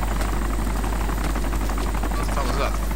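Helicopters fly in the video game DayZ, a steady droning rotor and engine rumble that runs loud and continuous with a Dutch-speaking player talking over it.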